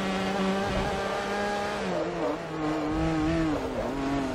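A Ferrari race car in Forza Motorsport 3 racing at the Nürburgring, its engine holding a loud, steady high whine that dips during a gear change and climbs again as the car accelerates.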